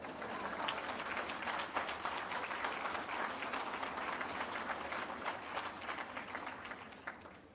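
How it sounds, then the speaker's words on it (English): Banquet audience at a chamber of commerce awards dinner claps in a dense, continuous wash of hands, fairly far off and steady, fading slightly toward the end. "Don't be pausing in your clap."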